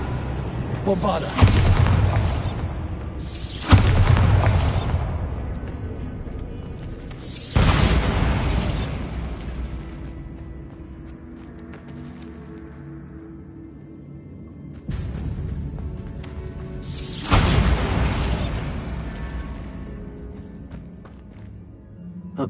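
In the Hogwarts Legacy video game, the Bombarda blasting spell sets off several deep, booming explosions inside a tomb, each followed by a long rumbling decay.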